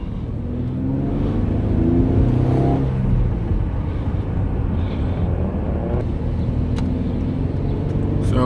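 A Hyundai Genesis Coupe with a resonator delete accelerates hard onto a freeway, its exhaust droning loudly from inside the cabin as the engine note rises through the revs, with road noise filling the background.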